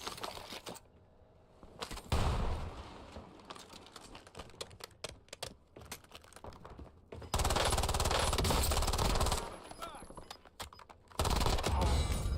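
Enemy gunfire in the Warzone shooter game, with bursts of rapid shots that come and go in loud, dense stretches and quieter clicking gaps between them.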